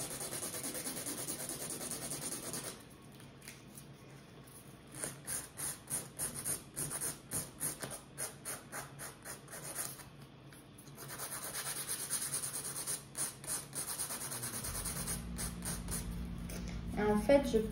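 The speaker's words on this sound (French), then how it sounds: "limer une ligne, limer 2 lignes jusqu'au milieu et après faire l'inverse de l'autre côté" Rhythmic scraping strokes of a hand file on a dental model, in short bursts separated by pauses, soft and close, with a person speaking over parts of it.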